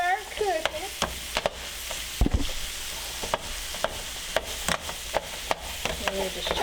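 A metal spatula chops and stirs thin cheesesteak meat on a hot griddle. Sharp, repeated taps cut through a continuous close sizzle in an uneven rhythm.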